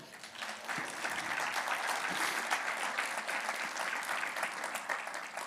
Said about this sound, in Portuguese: Mesmo sem querer, você pode aplaudir o Senhor?